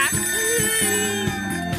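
A cartoon character's voice imitates a telephone ringing, a rapid repeated warbling trill in short bursts over under two seconds, played against steady background music.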